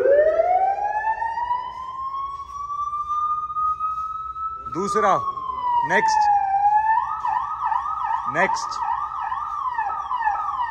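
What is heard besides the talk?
car hooter siren tones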